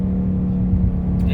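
A Ford Mustang in sport mode downshifts while driving near Baltimore, Maryland, giving a loud, steady engine drone with a low hum and a slight rise in revs, heard from inside the car.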